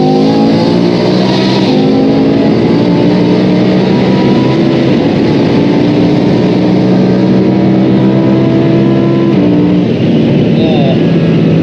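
BMW M3 E46 with a swapped V10 engine and DCT gearbox cruising on a derestricted German autobahn, a loud steady engine drone rising and stepping through gear changes, heard from inside the cabin with a person talking over it.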